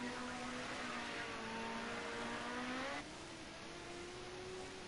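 A Ford Sierra Cosworth race car engine at Bathurst in a racing video game, a steady high-revving drone that rises in pitch, then drops slightly after a gear change, faint and continuous.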